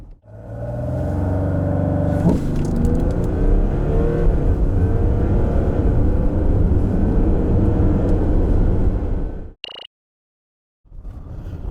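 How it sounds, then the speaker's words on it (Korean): A 2021 Audi Q8 45 TDI quattro diesel SUV with an eight-speed automatic accelerates hard. The engine roars loud and close, climbs in pitch, shifts up once early, then drones on before cutting off abruptly. "아우디 Q8 45 TDI 쿼트로 과연 얼마만큼의 가속 성능을 가졌는지 확인해 볼까요?"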